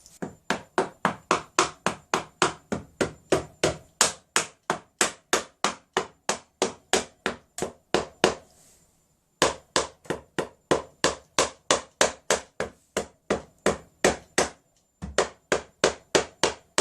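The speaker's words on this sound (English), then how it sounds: "just tap round it with a rubber mallet just to kind of start loosening things up a bit" Rubber mallet tapping around the clutch cover of a Triumph Bonneville motorcycle, a steady run of several dozen evenly spaced, dull knocks, close and fairly loud, with one short pause midway and no talking.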